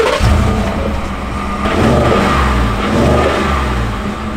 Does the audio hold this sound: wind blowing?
no